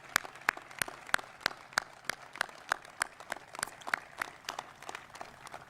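Faint, evenly spaced clapping rings out from the audience at a ribbon-cutting ceremony for a public safety training center in Atlanta, sounding distant and fairly sparse.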